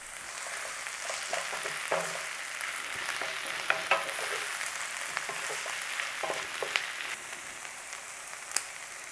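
Big bay leaves frying in a pan for dhaba-style chana dal masala, a continuous close sizzle with small crackles and pops and occasional sharp clicks from stirring.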